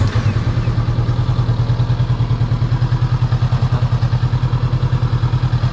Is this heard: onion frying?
no